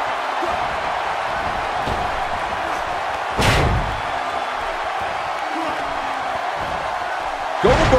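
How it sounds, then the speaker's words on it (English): A heavy slam as a wrestler is driven down onto the mat in the WWE 2K18 video game, a single loud thud near the middle over a steady arena crowd, followed by another impact near the end. "Uh-oh, the military press slam."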